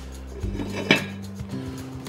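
A lid set onto a pot of pork cheeks confit in honey, a single light metallic clink followed by a softer settling knock, fairly quiet and close.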